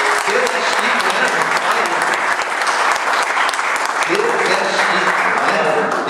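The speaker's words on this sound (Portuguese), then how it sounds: "E as palmas louvam ao Senhor" Church congregation at a vigil applauding in praise, dense, steady clapping from a large group sustained throughout, with voices calling out beneath the applause.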